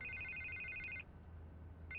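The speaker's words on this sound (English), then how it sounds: "can't get the phone to stop ringing" A telephone rings in Batman: The Telltale Series, a steady electronic trill for about a second, then silence under low room hum before the ring starts again briefly at the end.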